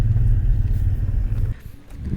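A Toyota Fortuner pulling away from a stop gives a deep, loud low hum that drones steadily and then drops off abruptly partway through, leaving quieter road and cabin noise.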